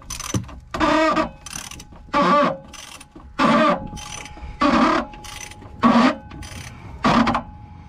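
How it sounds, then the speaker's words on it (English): Socket wrench ratcheting on a diesel fuel filter housing of a Jeep Wrangler or Gladiator, eight distinct bursts of clicking spaced about a second apart, loud and close with no talk. "Then we take our socket wrench."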